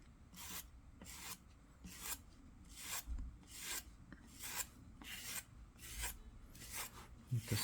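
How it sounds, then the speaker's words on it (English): A scraper rasps repeatedly across the surface of a clay pinch pot being shaped into a sphere, close and steady, with about a dozen rhythmic strokes roughly every half second and a faint low bump partway through. "Hit it with the scraper"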